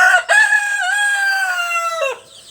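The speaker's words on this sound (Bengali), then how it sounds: "আমার মুরগি ডিম পাড়তে বসছে" A Cochin hen settled down to lay eggs gives one loud, drawn-out clucking call close by, preceded by a short sharp note and fading into quiet.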